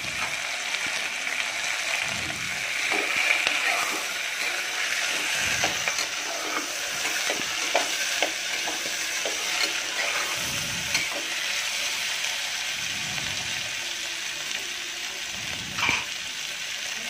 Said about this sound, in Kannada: ಇದನ್ನೆಲ್ಲ ಹಾಕಿ ಮಿಕ್ಸ್ ಮಾಡ್ತಾ ಇದ್ದೀನಿ.